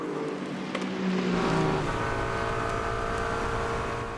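A Ferrari race car passing during the 4 Hours of Imola 2025 European Le Mans Series race: an engine note that swells to a loud peak as it goes by, then holds a fading drone.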